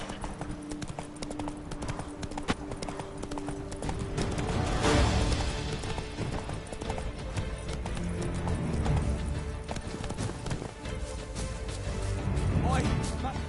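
Roach, a horse in The Witcher 3: Blood and Wine, gallops with rapid, continuous clip-clop hoofbeats and occasional whinnies, under a voice and game sounds.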